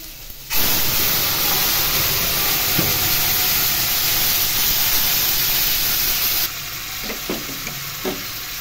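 Boiled papaya drops into hot oil tempered with black cumin, bursting into a loud, hissing sizzle that fills several seconds, then settles to a quieter frying crackle with a few utensil scrapes.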